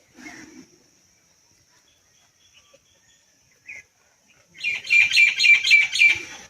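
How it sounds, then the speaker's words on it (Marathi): Birds chirp and twitter in a lively burst, close and clear, after a mostly quiet stretch with a few faint calls. "पाखरं किती छान वरटते"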